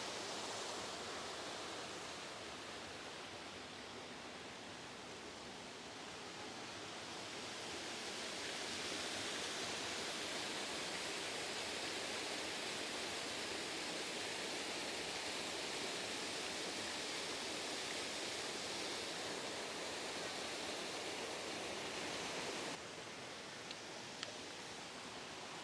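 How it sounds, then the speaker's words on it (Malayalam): Continuous broadband rush of a waterfall at Coola in Wicklow, Ireland, a steady even roar of falling water heard close up, with no voices. "ഒരു പ്രൈവറ്റ് വില്ലയുടെ അകത്തുള്ള ഒരു വാട്ടർഫോളോ പോലെയാണ് ഇരിക്കുന്നത്."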